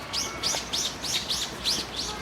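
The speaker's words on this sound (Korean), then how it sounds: "새소리 들리잖아요. 새소리도 들리고" Birds in an orchard give a quick series of bright, sweeping chirps, about seven evenly spaced calls, clear and fairly close over a soft outdoor hiss.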